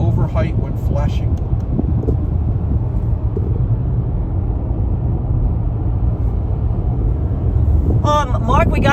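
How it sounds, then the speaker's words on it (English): Steady broadband road rumble and airy blowing fill a rental car cabin on a Florida-to-New York highway drive, a continuous close hum with brief voices at the start and end. "But you hear road noise in the background."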